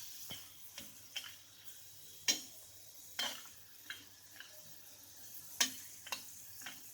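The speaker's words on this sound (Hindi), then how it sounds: "ऐसे ऐसे फ्राई करना है छोटी हरड़ को।" Small haritaki (harad) dry-frying in a pan gives off sparse, sharp crackles and ticks at an irregular pace, quiet and close, with faint scraping between the pops and no talking.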